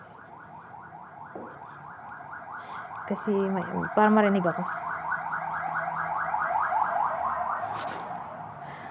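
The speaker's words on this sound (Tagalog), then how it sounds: "ang ingay, teka muna. Paalisin muna natin ambulance." Ambulance siren passing outside, a rapid warbling wail that holds steady and swells slightly, heard behind someone speaking indoors.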